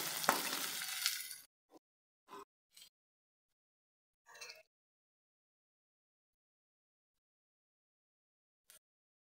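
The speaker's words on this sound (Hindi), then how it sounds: "अब इसमें हम कटे हुए शिमला मिर्च डालेंगे, इसे भी 2 से 3 मिनट तक भून लेंगे ताकि हल्का सा सॉफ्ट हो जाए" Chopped capsicum sizzles loudly in a pan for cabbage and capsicum dry sabzi, a dense hiss lasting just over a second, then a few short stirring scrapes spaced apart before the sound falls silent.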